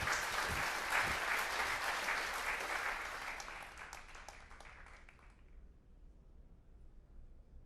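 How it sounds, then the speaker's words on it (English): A crowd cheers and applauds in a cutscene from the PS3 game Puppeteer, a dense roar of clapping and voices that holds loud for about five seconds, then drops away sharply to quiet. "a tidal wave of cheering washed over Kuturo, and so deafening was the roar"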